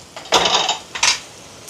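A metal puttu steamer pot is lifted off the stove, giving two short clattering knocks of metal on metal a little apart, close and fairly loud in a quiet kitchen.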